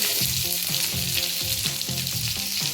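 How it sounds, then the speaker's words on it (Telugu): Chopped green chilies and onion pieces sizzle in hot oil for a paneer curry, a steady bright frying hiss with rhythmic stirring scrapes, close up and with no voices. "వేసి సిమ్లో వేసుకొని వేయించుకోవాలి"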